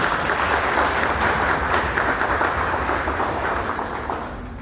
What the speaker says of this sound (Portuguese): Salva de palmas a palavra de Deus.